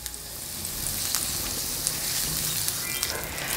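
Crushed garlic frying in olive oil in a pan, a dense, bright crackling sizzle heard up close, with a few sharper pops scattered through the short run and no voices.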